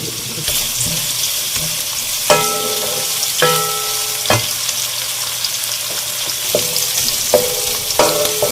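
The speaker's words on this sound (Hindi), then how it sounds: "प्याज को हम थोड़ा फ्राई करेंगे, बस हमें इसको इतना ही फ्राई करना है कि इसका कच्चापन खत्म हो जाए।" Chopped onions frying in a pan for a bhindi gosht dish, a continuous sizzle under repeated clinks and scrapes of a spoon stirring against the pan, close and fairly loud.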